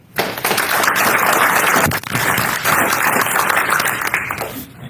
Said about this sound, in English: So big applause for all four.